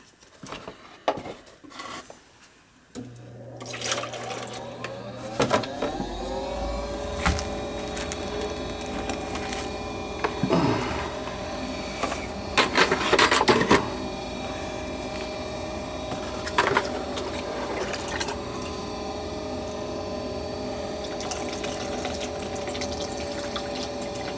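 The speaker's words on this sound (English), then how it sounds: "I'm going to pour some water in and check it because it was still dripping a little." Water is poured into a gas furnace to check for a leak, running as a steady splashing trickle through most of the stretch with some clinks and drips, heard up close without talk.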